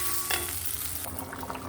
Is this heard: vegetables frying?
yes